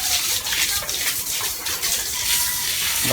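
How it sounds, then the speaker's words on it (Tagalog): A strong stream of running water gushes loudly and steadily close by, a dense continuous splash used for washing freshly harvested ginger and turmeric. "Lakas ng tubig."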